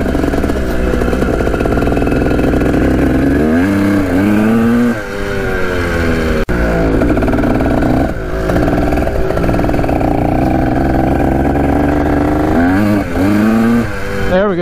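A locked-up, mouse-infested Kawasaki dirt bike engine runs loud and close throughout, revving up and down in repeated surges with a rough, buzzing tone.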